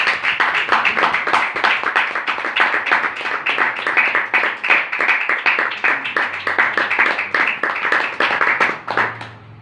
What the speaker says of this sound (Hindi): एक बार अपने लिए आप जोरदार तालियां बजाइए